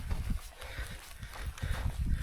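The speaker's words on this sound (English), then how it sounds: "also woken to some ponies grazing on the top here" Dartmoor ponies graze and walk on a moorland hilltop, with soft, irregular hoof thuds and low shuffling close by, moderately quiet against an open-air background.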